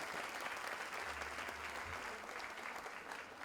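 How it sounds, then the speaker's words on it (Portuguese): Audience applause at a federal institute ceremony for the rector's reappointment and the swearing-in of directors, given for sign-language interpreters: steady, quiet, diffuse clapping from a distant crowd, continuous and even throughout. "Uma salva de palmas para eles, nossos intérpretes de Libras"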